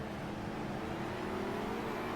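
Race cars at Oran Park sweeping past during an overtake, a steady dense engine roar with a faint rising whine, moderately distant and continuous throughout.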